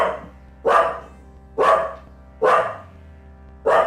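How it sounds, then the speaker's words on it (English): Dogs bark loudly and close by, four sharp barks at a steady, roughly one-second rhythm with quiet gaps between, no talking heard. "There's not really much I can do about these dogs."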